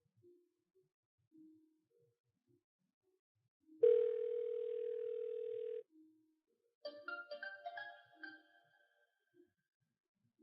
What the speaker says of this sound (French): je crois voilà, avoir entendu mon téléphone sonner.